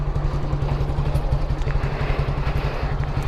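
A motorcycle engine, freshly serviced with an oil change and new air filter, runs steadily at a fast, throbbing idle, close and loud throughout with no other sounds.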